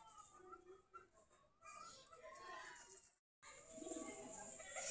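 Local domestic pigeons of the desi giribaz breed cooing in a loft of around thirty to forty pairs, soft repeated throaty coos close by with faint chirps and a brief dropout partway through.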